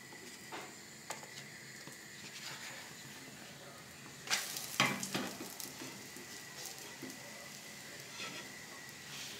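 A crêpe cooking in a pan gives a soft, steady sizzle and hiss, with a brief louder burst of scraping near the middle as it is worked loose. The sound is faint and close, with no talking.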